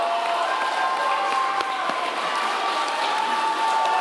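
An indoor audience at a district political debate applauds and cheers continuously, a dense, steady patter of clapping with faint voices mixed in.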